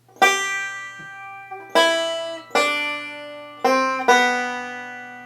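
A banjo picks the opening lick of Joy To The World at slow lesson pace, five or six ringing plucked notes that each decay before the next, with no talking over it.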